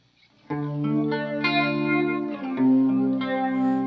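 Sustained distorted electric guitar chords through a Walrus Audio Fundamental Phaser on heavy mode, with a strong sweeping phaser swirl, ringing continuously at steady loudness with a couple of chord changes.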